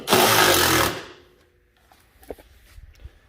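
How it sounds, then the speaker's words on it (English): A wrench tightens the nuts on snowblower shoes in one loud, buzzing burst lasting under a second, followed by faint scattered clicks and knocks nearby. "Tighten up the nuts on the shoes."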